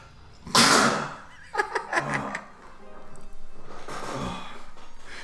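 A single sharp sneeze bursts out near the start, followed by light laughter and quiet talk in a room.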